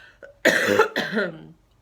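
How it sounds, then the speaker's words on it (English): A single close cough, harsh and throaty in two bursts, with a brief throat sound just before. "if I have a coughing fit, I apologise"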